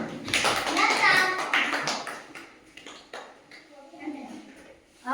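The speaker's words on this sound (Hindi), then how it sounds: "चलो ताली बजाओ।" Children clap their hands together in a classroom during a counting lesson, a burst of quick claps mixed with kids' voices and a teacher talking.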